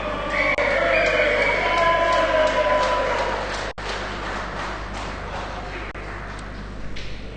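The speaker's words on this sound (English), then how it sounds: "German crowd going crazy" A German crowd cheers and roars at a EuroCup 2012 petanque final, a steady loud wash of voices with commentary running over it throughout.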